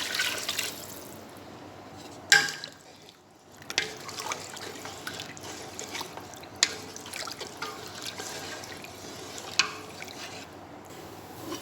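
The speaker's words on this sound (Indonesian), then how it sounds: "Dan aku masukin air." Water being poured into a cooking pot of softened tomatoes for meat kabsa: a faint, continuous splashing trickle with scattered drips and clinks, no talking.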